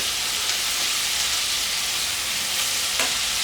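Sesame-coated beef frying in hot oil in a wok, a dense continuous sizzle and hiss with a few faint pops, close and steady throughout.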